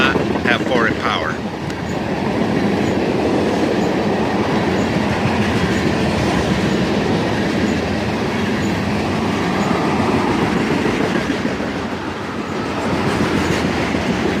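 A southbound tanker freight train rolls past continuously at dusk, a loud steady rumble with rhythmic wheel clatter, and a brief squeal near the start.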